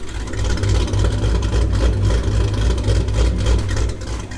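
Pontiac G8 with a loud exhaust, engine running and revving in a sustained deep roar with fluctuating throttle, close and loud, without talk.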